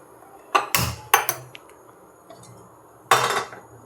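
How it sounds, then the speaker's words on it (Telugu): A steel vessel is set down on a kitchen stove, giving a few sharp metallic clanks, two quick knocks close together, then a pause and a final ringing clank, loud and close in a quiet room. "స్టీల్ గిన్నెది వచ్చేసి పెట్టానండి"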